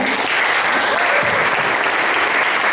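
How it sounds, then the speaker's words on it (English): An audience at a panel event claps steadily, producing a dense, even wash of applause that fills the room. "All right, can we give them a hand of applause here?"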